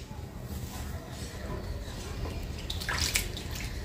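Raw green mangoes dropped and swished in a bowl of water, soft close splashing and sloshing that grows busier toward the end.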